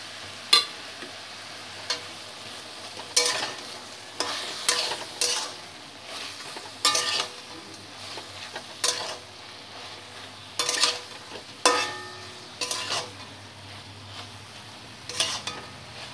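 Cumin and turmeric spice paste cooking with ridge gourd in a pan for a light curry, a soft continuous sizzle broken by repeated sharp scrapes and clinks of a spatula stirring against the pan.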